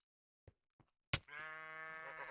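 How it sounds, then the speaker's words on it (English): A single sheep bleat from the Minecraft Blightfall modpack rings out clearly after two faint soft knocks, a sustained nasal, buzzing cry with a steady tone, close and alone. "Oh, hello, sheep."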